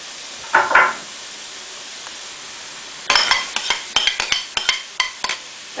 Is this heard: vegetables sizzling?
yes